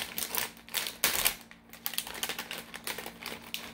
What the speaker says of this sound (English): Use these little tear strips at the top.